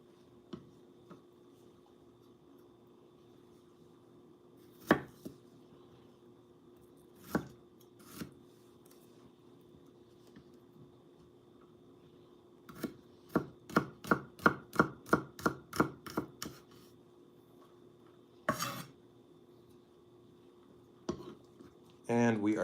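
A knife chops garlic on a board: scattered single taps, then a quick run of about a dozen crisp, evenly spaced chops, followed by a few more strikes over a low steady background hum.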